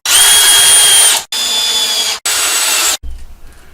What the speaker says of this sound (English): I'm basically only going to put 3 screws in.